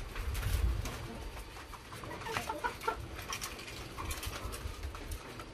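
Breeding doves in round cages at a Vietnamese dove farm, a dense chorus of soft cooing and fluttering from many birds nearby, steady and continuous with no talk.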